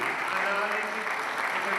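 Mayors at a meeting give a round of steady, fairly faint applause, with a voice speaking over it.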